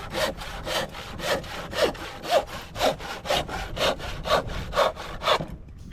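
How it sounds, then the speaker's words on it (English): A handsaw cutting through a wooden treehouse beam outdoors, with steady, even back-and-forth strokes, about thirteen of them, close and clear, before the sawing stops near the end. "a handy little handsaw, and I can finish the job with that"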